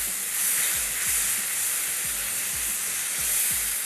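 Tomatoes softening and frying in a pan for chana dal: a steady, bright sizzle runs throughout, with repeated low spoon or pan knocks underneath and no talking.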